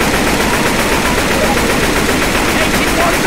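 Sustained gunfire during a fight with a Tank in the zombie shooter Left 4 Dead 2, a loud continuous rattle of rapid shots with no pause across the whole stretch.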